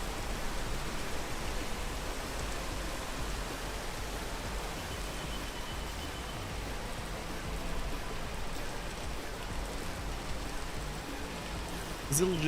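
Rain falls in the climbing video game Peak as a constant, hissing wash of drops, steady and fairly close throughout, with a short louder sound right at the end.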